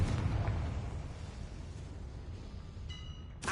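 A Confringo blasting spell goes off in a Harry Potter video game, opening with a heavy low boom that decays into a long rumbling tail, followed near the end by a brief ringing tone and a sharp burst.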